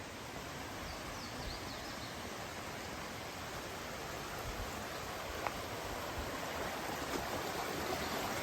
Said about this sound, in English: I slept so good last night with this rushing stream, like beautiful white noise